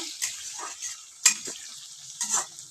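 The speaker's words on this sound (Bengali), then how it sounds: "আমি গোটা আলুগুলোকে ভেজে নেব" Whole potatoes frying with whole spices in a pan, quiet intermittent sizzling with a few sharp stirring scrapes and taps, fairly close.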